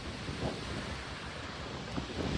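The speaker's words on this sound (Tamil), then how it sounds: "காத்தண்டா அப்படி அடிக்குது" Strong wind of about 26 km/h roars across a cold, snowy spot, a constant loud rushing buffet against the microphone with occasional gusts and no talking.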